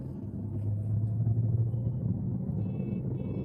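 A car engine after a shift into third gear, a steady low rumble holding even and fairly close throughout, with no talking.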